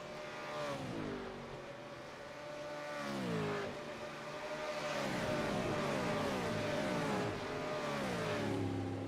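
V8 Veterans race cars thunder past at Sandown Raceway heading toward Dandenong Road, loud engines rising and falling in pitch as several cars sweep by in succession, with revving and a hint of tyre noise, no talk.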